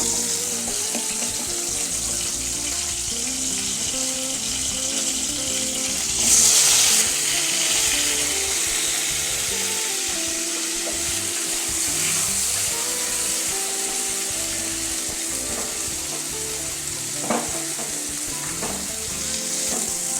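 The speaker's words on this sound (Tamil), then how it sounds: "எண்ணெய் காஞ்சிடுச்சு, கத்திரிக்காய் போடலாம்." Eggplant pieces frying in hot oil for a Tamil kathirikkai kulambu, giving a steady, fairly loud sizzle throughout with some stirring and clinking along the way and no talk.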